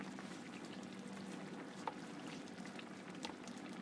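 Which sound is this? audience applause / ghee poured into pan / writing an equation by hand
ghee poured into pan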